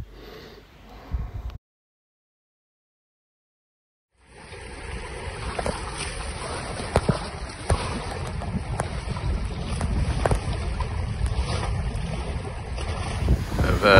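A sailboat reaching in about 18 knots of breeze at 9.5 knots, setting out from St. Kitts: steady rushing wind and hull-and-water noise builds after a brief gap, with close, loud gusty microphone buffeting throughout.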